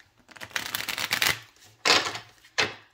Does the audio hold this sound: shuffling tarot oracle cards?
yes